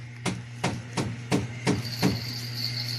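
A bolo knife is used as a makeshift hammer: six sharp, evenly paced pounding strikes ring out close up over a steady low hum, with a faint tone creeping in near the end.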